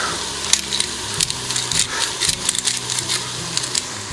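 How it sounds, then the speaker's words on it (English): Wild venison sautéing in a few teaspoons of olive oil in a pan, a steady close sizzle broken by scattered crackles and pops, with no talking. "heat up a few teaspoons of olive oil, go in with our wild game, and we're going to saute this up till it's nice and brown"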